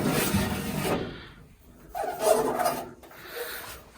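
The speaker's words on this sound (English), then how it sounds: "Just pull the case forward, Danny, it'll slide forward." A Viessmann 111 boiler's outer case scrapes and rubs as it is slid forward off its mount, a near, rasping sliding noise in two or three bursts with quieter gaps between.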